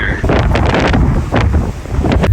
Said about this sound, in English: It's actually so windy I might lose my phone.